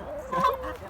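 Hens clucking softly close by, a short burst of low throaty calls with a slightly louder cluck in the middle.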